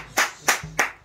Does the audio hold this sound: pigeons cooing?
no